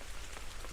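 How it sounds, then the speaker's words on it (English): Steady rain patters on surfaces in the New Forest, a dense even hiss of drops close by with no voices. "Just hope it stops raining soon."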